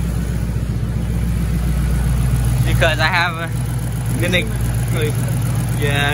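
2008 Ford Mustang GT S197 V8, just repaired for ticking lifters and rocker arms, running at a steady idle with a constant low rumble throughout as someone talks briefly over it.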